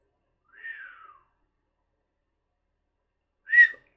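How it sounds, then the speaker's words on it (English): A person whistles in two brief tones: a gliding falling whistle near the start, then a short sharper whistle after a long silence, both moderately loud and close, with no talking. "My whistle's not the same."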